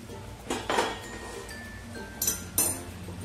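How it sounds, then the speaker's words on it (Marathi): A metal lid lifted off a cooking pot of stuffed capsicum, giving a few close clinks and scrapes of metal on metal, a short burst near the start and two sharper clanks toward the end over a quiet kitchen background. "आपण हे झाकण काढून बघूया."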